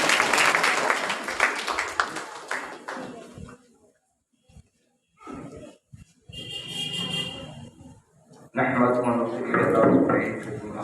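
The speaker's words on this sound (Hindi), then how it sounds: "आप तमाम की ज़ोरदार तालियों के लिए" An audience at a community event applauds as a speaker is introduced. Talking comes first, then pauses, then a loud burst of sustained clapping near the end.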